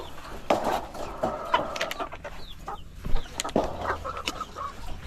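Several chickens cluck and squawk nearby in short, irregular bursts, with occasional clatter in the background.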